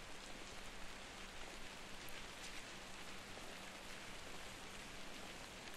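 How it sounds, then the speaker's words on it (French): Steady rain falling continuously in the video game The Order: 1886, with mist, a soft even hiss with scattered drops, unbroken throughout. "En plus, il pleut, il y a de la brume."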